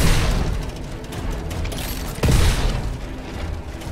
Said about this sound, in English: let's go for some grenades again